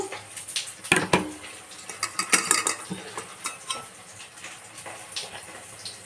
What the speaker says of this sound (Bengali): চামচের সাহায্যে ভালো করে আমি এটাকে ভালো করে নাড়িয়ে